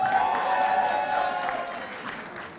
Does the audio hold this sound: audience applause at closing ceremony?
yes